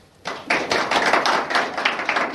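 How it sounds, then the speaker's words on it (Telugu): Audience at a lecture breaking into clapping: after a quiet moment, a close, lively patter of many hands starts abruptly and keeps going at an even, brisk rhythm. "చప్పట్లు కొట్టండి."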